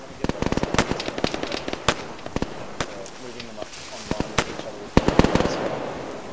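Sharp gunshot cracks in the Arma 3 military game, scattered single and rapid volleys at medium distance in a wooded area, with people talking over the firing.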